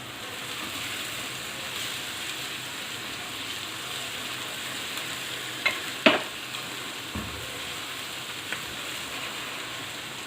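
Onions fry with ginger garlic paste in a soft, steady sizzle, with a few faint clicks and stirring taps in the middle; low and even throughout, no voices.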